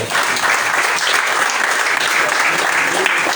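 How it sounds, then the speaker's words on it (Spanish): A church congregation claps loudly and continuously, dense applause filling the room with a few voices mixed in. "Denle aplausos fuertes al Señor."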